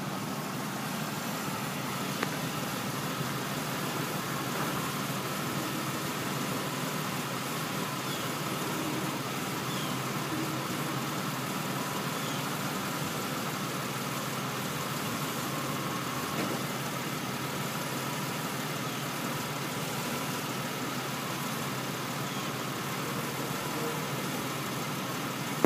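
A 2008 Chevy Uplander's 3.9 V6 idles steadily, a constant, even engine hum with light vibration running the whole time, close by and with no talk over it.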